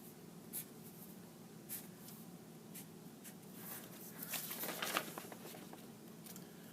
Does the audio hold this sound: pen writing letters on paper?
yes